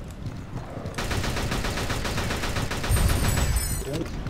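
Rapid automatic gunfire from the shooter game ShadowGun breaks out about a second in and rattles on as a dense, steady burst that swells louder near the end.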